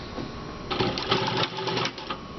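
A Juki lockstitch industrial sewing machine stitching in a short burst of rapid mechanical clatter lasting about a second and a half, close and moderately loud after a brief quiet start.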